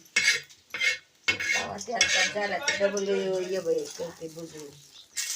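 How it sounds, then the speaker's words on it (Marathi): A spatula scrapes and clinks against a hot griddle as chana dal is stirred and roasted, in short repeated strokes, with a voice talking over it. "ती तव्यावर गरम करून घेत आहे आणि मस्तपैकी लाल परतून द्यायची आपली डाळ"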